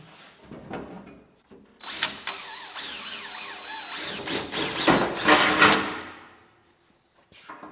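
A power drill bores holes in the radiator support of a 1967 Ford F-250, whining in bursts that rise and fall over several seconds, close and loud with brief pauses.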